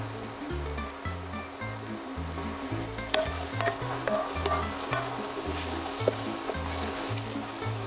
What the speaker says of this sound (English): I'm going to increase the temperature because I want to cook down the mushrooms